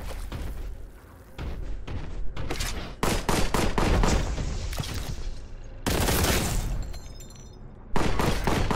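Rapid bolt gun fire in the shooter game Warhammer 40,000: Boltgun, with loud dense bursts of heavy shots and booming impacts that continue almost without a break, then short pauses and renewed volleys.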